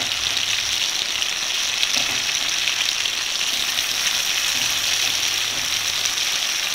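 Raw turmeric and amla sizzle steadily in a little oil, a continuous close frying hiss with no pauses or voices over it.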